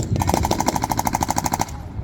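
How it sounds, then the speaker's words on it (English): A .50 caliber M2A1 machine gun fires a rapid, sustained burst of evenly spaced shots, loud and close, lasting about one and a half seconds, during a combat demonstration. "suppress the enemy with the 50 caliber M2A1 machine gun"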